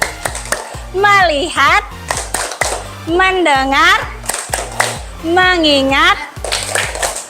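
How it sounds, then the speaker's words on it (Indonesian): Students perform the 'tepuk fokus' clapping chant in a classroom, with crisp rhythmic hand claps in repeated groups between chanted words; near, loud and steady. "Nama tepuknya adalah tepuk fokus."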